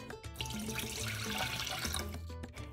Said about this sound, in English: Pour in the lime juice